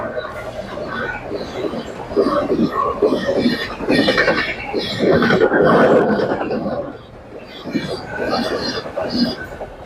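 A train rumbles and clatters past, loud and close, with voices talking over the steady mechanical noise.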